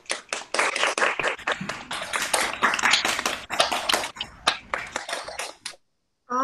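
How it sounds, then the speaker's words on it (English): A small group claps steadily for about five and a half seconds for parents, teachers and staff at a virtual recital, irregular close hand claps that stop abruptly, followed by a brief silence and a new sound at the end. "Round of applause for the parents,"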